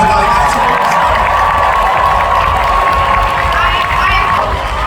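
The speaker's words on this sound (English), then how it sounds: "Please give them a big round of applause." A big crowd at a comic con cosplay contest gives loud, sustained applause mixed with cheering and whoops, a dense wall of sound that holds steady throughout.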